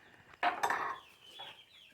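A chicken gives a short, close cluck lasting about half a second, followed by fainter trailing calls, with no talk over it.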